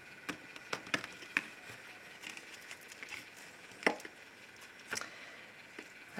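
A deck of tarot cards being cut by hand, giving a few soft, separate taps and clicks spaced through a quiet room with no talking.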